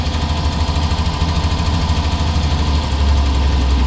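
A 1929 Chevrolet International Phaeton engine runs steadily at close range, a low throbbing chug with a slight knock as the old car pulls away slowly in first gear, loud and unbroken throughout.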